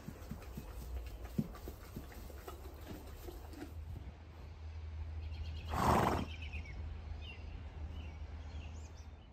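A horse whinnies once in a loud, bright burst midway, after scattered soft thuds and knocks over a low steady hum.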